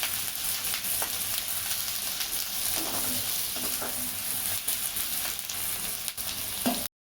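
Onion with curry leaves frying in a pan for drumstick aamti, a steady close sizzle throughout with occasional stirring scrapes and no talk, cutting off at the end.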